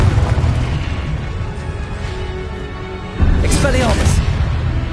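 A Confringo blasting spell explodes in Hogwarts Legacy, giving a deep, booming burst near the end after a quieter low rumble. Spoken spell names overlap the action.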